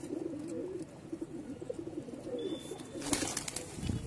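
A pigeon on a rooftop coos in soft, repeated throaty phrases against a steady outdoor hiss, with a brief rustle near the end.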